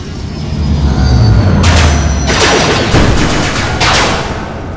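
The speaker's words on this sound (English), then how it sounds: "now surrounded by the ground forces, they open fire on the Rangers" Gunfire effect in a Power Rangers audio drama as ground forces open fire: a loud rumbling barrage with several sharp bursts of shots over a low roar.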